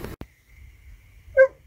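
Inside a parked car, a dog gives a single short bark near the end, after a soft whine and a quiet pause.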